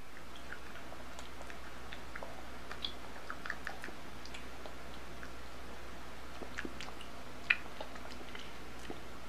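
Jelly Belly beans crunched and chewed close up, a run of soft irregular clicks and crackles with one sharper crunch, faint against a quiet steady background hiss.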